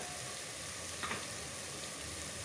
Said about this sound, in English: I'll stir that very well.